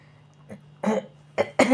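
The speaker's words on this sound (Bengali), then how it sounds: "যত রাজ্যের কাশি সব আসতে শুরু করে" A woman coughs in a home kitchen with a hoarse throat, a faint throat sound followed by three close, rough coughs in quick succession.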